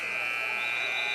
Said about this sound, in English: We got a buzzer stuck somewhere.